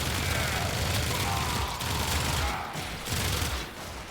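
Sustained heavy gunfire in Warframe, a dense, constant stream of rapid shots at high volume, thinning slightly near the end as a single tough enemy absorbs round after round.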